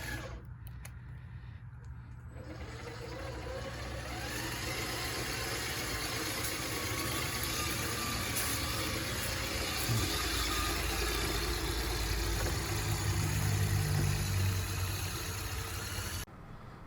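A Traxxas TRX-4 Sport RC truck drives with a steady electric motor whine and drivetrain hum that rises after a quiet start, grows louder midway, then cuts off abruptly near the end.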